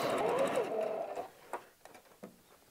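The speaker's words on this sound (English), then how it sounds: "I'm just repeating the process, doing a straight line of stitching, using the edge as a guide" A sewing machine runs a straight line of stitching along an edge on a tablet cover, a dense steady whir for about a second before stopping, followed by a few light clicks and taps.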